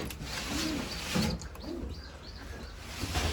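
Pigeons in a loft give soft, low, rounded coos, several short calls spaced apart over quiet background rustle and faint mechanical noise, close but gentle, with no talk.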